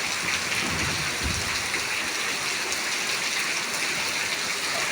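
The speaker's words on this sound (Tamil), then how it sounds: "பாருங்க மழை அடிச்சு ஊற்றுது பாருங்க" Heavy rain pours down steadily outdoors in Tiruppur, a dense, continuous hiss of downpour on surfaces that stays loud and even throughout, with no voices.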